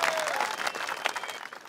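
A crowd applauds at a wrestling prize ceremony, the clapping loud and continuous at first and then thinning slightly, with faint tonal sounds running underneath.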